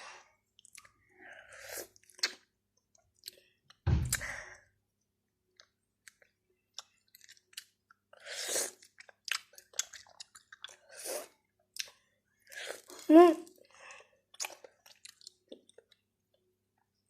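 Someone eats grapefruit segments, with scattered wet chewing and soft crunching bursts spread across the clip, close to the mic and fairly quiet, with pauses of near silence between bites.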